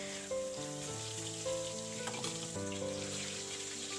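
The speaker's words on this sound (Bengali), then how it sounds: "আমার দেখো মাছ ভাজা প্রায় কমপ্লিটই হয়ে গেছে" Pieces of catla fish fry in hot oil with a steady, dense sizzle and crackle throughout, moderately close, while faint background music plays underneath.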